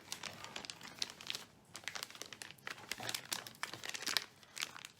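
A plastic piping-bag coupler drops into a pastry bag amid close, continuous crinkling and rustling of the bag over several seconds, with brief pauses.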